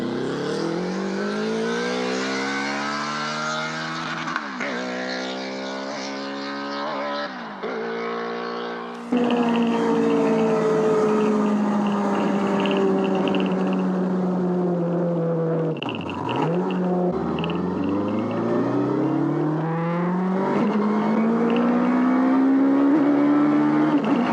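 Peugeot 106 hatchback fitted with a Hayabusa motorcycle engine, driven hard: loud, high-revving engine climbs through repeated gear changes with sharp drops between shifts, continuous and close with no talking.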